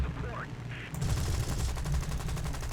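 Fighter plane cannons in the War Thunder video game fire in rapid, loud bursts that rattle continuously after a brief lead-in of other game sounds.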